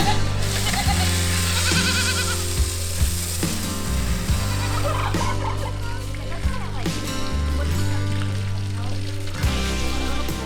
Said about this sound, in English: You think you hear goats?